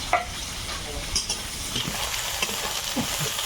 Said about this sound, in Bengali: একটু নাড়াচাড়া করে ভেজে নিয়েছি